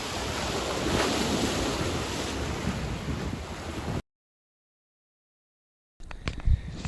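Waves breaking on a Sussex or Dorset beach, a steady close wash of surf with heavy wind buffeting the microphone, then a short silence and a few faint knocks.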